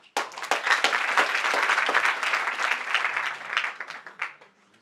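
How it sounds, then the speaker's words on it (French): An audience at a student event bursts into applause, a sudden onset of brisk, fairly close clapping that stays lively for a few seconds, then thins out with a few last claps. "Je pense qu'on peut l'applaudir."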